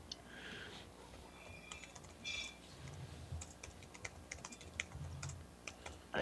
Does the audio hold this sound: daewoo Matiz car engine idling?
no